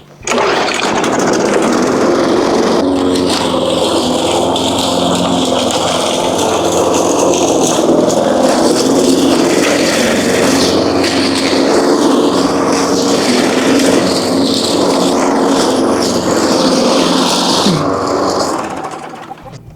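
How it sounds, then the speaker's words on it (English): A lawn mower mows grass beside a polytunnel, its engine droning loud and steady close by for nearly twenty seconds before cutting out at the end, with no speech over it. "we'll give it a mow down"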